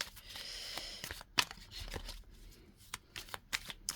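Oracle advice cards are shuffled by hand, giving a continuous papery riffle and flutter with sharper snaps and slaps near the end, close and clear with no talking.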